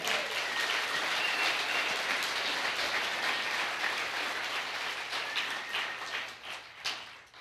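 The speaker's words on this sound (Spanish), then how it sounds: "Dale fuerte ese aplauso al Señor" A congregation at a Spanish-language church service gives sustained, dense applause for about seven seconds, steady and full before thinning out toward the end.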